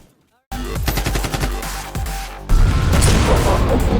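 Rapid gunfire from The Division 2 video game, likely shotguns, fired in dense repeated bursts that grow louder and busier midway, close and loud with no other sound over it.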